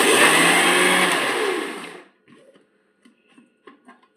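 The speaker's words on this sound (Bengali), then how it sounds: "তো মিক্সিতে কিছু তরমুজ দিয়ে দিয়েছি, মিক্সিটা চালিয়ে নেব।" A kitchen mixer grinder whirs loudly for about two seconds blending watermelon pieces for a summer drink, then winds down and stops, leaving only faint clinks and small handling sounds.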